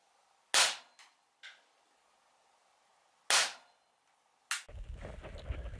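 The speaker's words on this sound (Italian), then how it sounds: "facciamo il primo sparo" Two sharp, loud air gun shot cracks a few seconds apart, with small clicks between them, then a burst of rustling handling noise.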